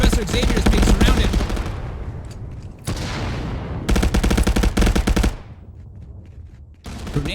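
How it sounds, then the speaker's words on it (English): Bursts of rapid automatic gunfire and a heavy blast from a grenade ring out in ContractorsVR, a multiplayer shooter match. The shots are loud and close, come in dense clusters, and have short quieter gaps between them. "A grenade from King Henry and a shot from Estrellas helped Professor Xavier out there"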